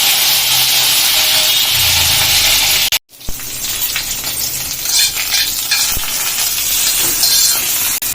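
Dried red chillies and curry leaves hit hot oil for a chutney tempering, a loud, close, hissing sizzle that breaks off briefly near three seconds and then resumes with stirring scrapes, with no talk.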